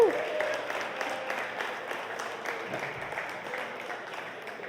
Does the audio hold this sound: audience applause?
yes